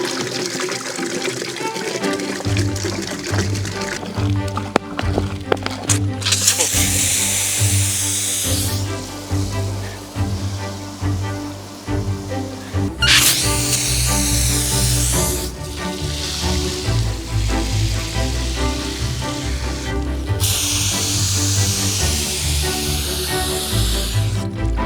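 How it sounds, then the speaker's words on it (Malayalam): Coca-Cola glugging and fizzing as four bottles are poured at once into a container for a giant cold-drink ice cream, a steady loud liquid rush with bright hissing bursts over a continuous low hum. "4 കുപ്പിയൊക്കെ ആയിട്ട് ഒരുമിച്ച് വെച്ച് ഒഴിക്കുന്നേ."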